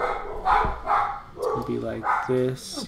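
Dogs bark in short repeated bursts with yips in between, close and fairly loud, while someone talks over them.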